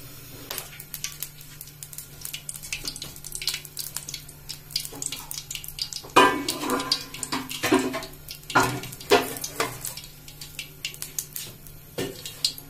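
Cooking oil is poured into a kadhai set on the stove for frying papad, giving close, irregular splashy pouring and liquid patter with occasional metallic pan contact, loudest in the middle.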